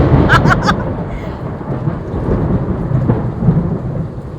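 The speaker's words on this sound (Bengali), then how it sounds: "যেরকম বৃষ্টি হচ্ছে সেরকম বিদ্যুৎ চমকাচ্ছে" Thunderstorm with heavy rain pouring in a steady, loud roar, a rumble of thunder rolling through the first moments before the downpour continues alone.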